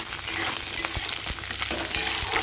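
Loud, continuous close-up sizzling of potato, carrot and flat beans frying in a pan, with scraping and light knocks of a spoon stirring them through.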